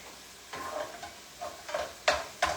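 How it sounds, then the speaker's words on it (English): Ground beef frying in a pan is stirred and broken apart, several soft scraping strokes spaced across a light sizzle, close and fairly quiet. "I just want to stir up that ground beef."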